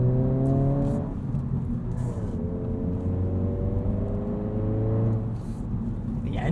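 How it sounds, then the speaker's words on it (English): A 2022 Honda Civic Si Sedan engine climbs steadily through the revs with a throaty, rising whine, eases off briefly, then pulls again in a second long acceleration, heard loud from inside the car. "The engine sounds good. It's kind of throaty and guttural at the low revs."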